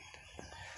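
Faint, distant chicken clucks over a low background hum, a couple of short calls in quick succession.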